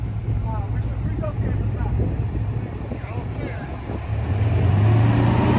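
A race car's engine firing back up after a pit stop during the Vegas to Reno off-road race, a steady loud motor drone that swells toward the end, with an announcer talking over it.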